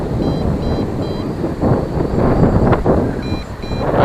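A JJR/C X8 Cetus GPS drone sounds its low-battery warning: short repeated pairs of thin electronic beeps over heavy wind rumble and motor noise outdoors.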